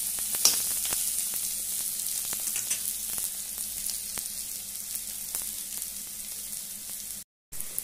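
Onion frying in a pan for a drumstick curry, a steady close sizzle with scattered crackles and small pops throughout, continuous, briefly dropping out near the end.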